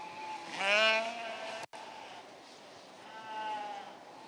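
Sheep bleating at a market wether show, with one loud, close, wavering bleat followed by a fainter, longer second call over a low hum of background noise.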